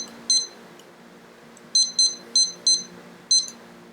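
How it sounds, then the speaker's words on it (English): A slow cooker's timer goes off with high, thin electronic beeps: one isolated beep, then a run of four quick beeps and a final one, clear and alone over a faint background hum. "So the timer just went off"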